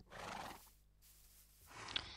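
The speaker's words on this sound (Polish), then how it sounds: "Ej, mega jest tych koni tutaj." A horse in the Minecraft video game neighs in a short, close, fairly quiet whinny that rises and falls, then a second whinny follows, with no talking.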